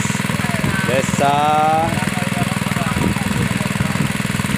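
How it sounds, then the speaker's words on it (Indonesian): Engine-driven drilling rig boring a water well in rice paddies in South Lampung, a steady loud rhythmic mechanical thumping and droning throughout, with someone talking over it. "Inilah pengeboran untuk area pesawahan"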